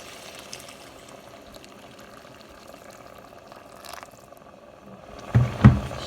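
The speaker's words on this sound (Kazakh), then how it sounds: "Сосын үстіне қайнаған су құямын" Boiling water is poured over rice frying in a pot, giving a short, loud hissing splash near the end after a stretch of quiet, low kitchen background.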